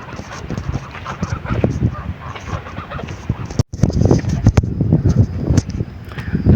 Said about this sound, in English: We have some ducks.